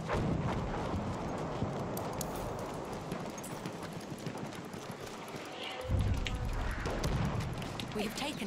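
A horse galloping in the Battlefield 1 video game, rapid clip-clop hoofbeats over battlefield noise with a heavier thump partway through, while a player talks over it.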